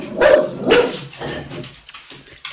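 Dogs being taken out for a walk bark loudly and close by, two strong bursts followed by a quieter bark and softer whimpering sounds.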